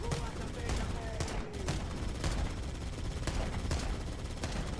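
Rapid automatic gunfire from the Halo video game crackles in dense bursts, with sharp repeated shots close and loud throughout.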